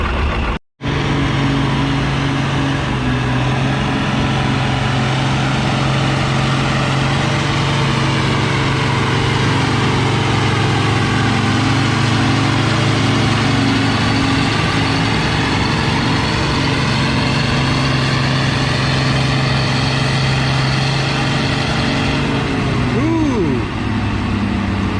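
A vintage tractor's engine drones loud and steady throughout a tractor pull, with a brief dropout near the start and a rising whine toward the end.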